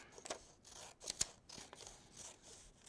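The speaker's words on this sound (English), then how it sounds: "All you got to do here is cut strips" Scissors snip through strips of construction paper in a series of quiet, close, irregular cuts, heard alone without talk.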